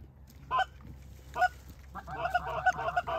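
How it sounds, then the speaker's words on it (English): Several geese honk in short bursts over a dry field during a mallard hunt, a few isolated calls followed by a busier overlapping cluster, moderately near against a quiet background. "Where's his geese at?"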